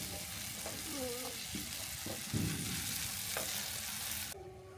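Sliced onions sizzle steadily in hot oil in a home kitchen pan while a spoon scrapes and stirs them. Faint voices speak occasionally under the continuous frying hiss.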